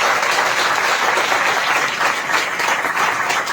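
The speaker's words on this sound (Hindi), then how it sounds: "आइए जोरदार ताली बजाएं परमेश्वर के लिए।" Church congregation applauding loudly and continuously, a dense wash of many hands clapping at once, no talk.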